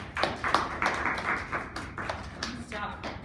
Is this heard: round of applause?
yes